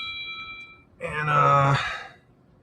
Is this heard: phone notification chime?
yes